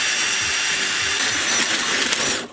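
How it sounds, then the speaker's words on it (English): A power drill fitted with a larger bit bores through metal while a rivet is drilled out on a truck. The whine is steady, harsh and close, running continuously for a couple of seconds before cutting off. "When in doubt, bigger drill bit."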